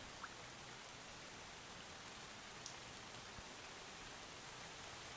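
Steady, even rainfall in the video game Drizzlepath forms a soft, continuous hiss of drops on surfaces, fairly quiet and unbroken, with no voices over it.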